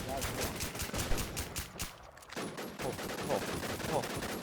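Rapid bursts from a .50-calibre gun in a shooting video game, firing in dense repeated volleys with a short pause midway, loud and busy against background game noise.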